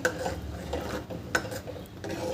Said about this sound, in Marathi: आता इथे आपल्याला मिक्स करून घ्यायचं आहे